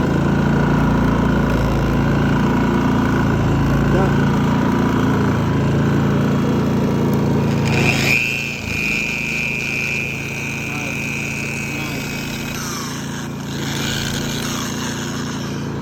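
A portable generator engine runs steadily for a mobile car wash setup, a loud continuous mechanical drone that shifts in pitch and load partway through as something is plugged into it, with a brief whine.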